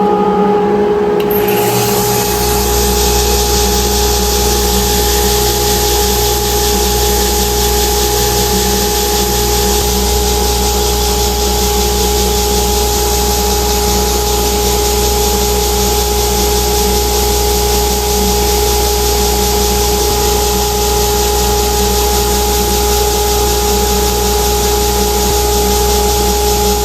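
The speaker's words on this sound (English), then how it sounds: "on this horizontal belt sander" A horizontal belt sander runs steadily while sanding a guitar part, giving a loud, continuous whirring drone with a rising start, close by and without speech.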